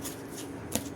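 Tarot cards are handled and shuffled in a brief, close riffle of papery flutters with a soft snap near the end, heard alone.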